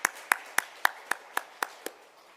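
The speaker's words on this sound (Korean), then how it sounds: "함께 박수로 축하하겠습니다" Churchgoers clapping together in unison during a Sunday service: about eight crisp, evenly spaced claps in a steady rhythm, sharp and fairly close, then stopping.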